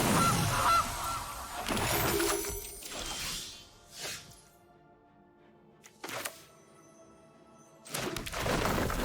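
Goose honking card effect from the digital card game MTG Arena, several loud honks and squawks in bursts with gaps of near silence between them.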